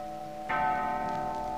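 A bell strikes once, loud and close, and its bright ringing tone hangs on and slowly fades, with no voices.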